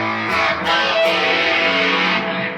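Electric guitar played through an amplifier with a boost pedal switched on, a loud, edgy, slightly distorted chord with a few picked strikes, ringing on with a faint hum underneath.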